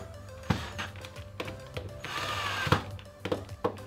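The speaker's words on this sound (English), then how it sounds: "I took it over to my bandsaw and I cut all 4 of the edges off" A bandsaw cuts the edges off a tightened twisty puzzle in short, close bursts, its blade whine rising with sharp knocks and thunks as each piece is fed through.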